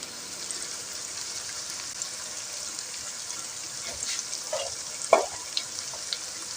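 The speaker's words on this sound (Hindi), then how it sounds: "अब इन सारे स्पाइसेस को मैं अच्छे तरीके से भून लेती हूँ" Spices frying in a pot, a soft continuous sizzle with a few stirring scrapes and clinks toward the end, heard up close without speech.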